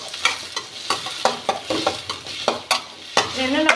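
Chopped onion, tomato and green chillies sauté in a pan, with repeated sharp spatula scrapes and knocks in an uneven rhythm over a soft, close sizzle.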